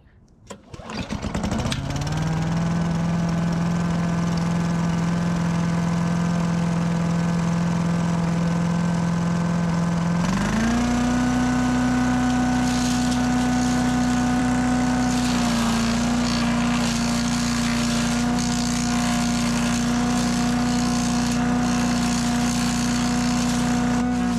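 A small-engine wood chipper for mulching fallen tree branches sputters to life, then drones loudly and steadily, stepping up in pitch partway through as it revs, with no talk over it.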